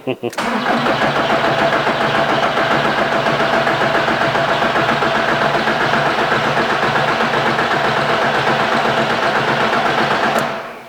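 A Volkswagen diesel engine cranks continuously for about ten seconds, a fast, even rhythmic churning close by that never catches and fires up.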